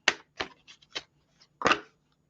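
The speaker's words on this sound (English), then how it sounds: "Give this a good shuffle." Several quick papery riffles and flaps of an oracle card deck being shuffled, close by, in short irregular bursts with a louder final riffle.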